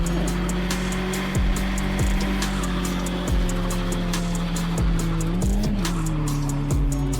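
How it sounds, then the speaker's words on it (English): A Hemi car doing a burnout: a loud, close engine roar holds a steady pitch, with the revs dipping and climbing again several times and a rough, hissing edge over it. No one speaks. "I'm gonna do a little burnout"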